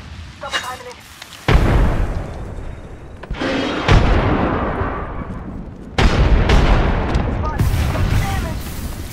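Grenade blasts and gunfire in the video game Apex Legends: several heavy booms with rumbling tails and scattered shots, loud and close, with a short quieter stretch between the impacts.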